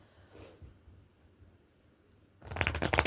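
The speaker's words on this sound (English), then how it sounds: "let's do 3 shuffles for the sign of Ophiuchus here" A quick riffle of cards being shuffled, a brief papery burst, then near silence before a louder flurry of rapid card shuffling at the end.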